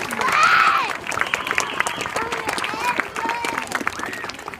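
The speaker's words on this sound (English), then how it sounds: "Can we give her another round of applause?" An audience at a school Veterans Day presentation gives a student another round of applause, a crowd of clapping with voices calling and speaking over it throughout.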